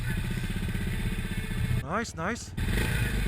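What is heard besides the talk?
motorcycle engine running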